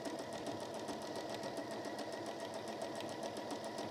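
A sewing machine stitches around the edges of a lined deluxe apron, a quiet, steady run of rapid, evenly spaced needle strokes that continues throughout.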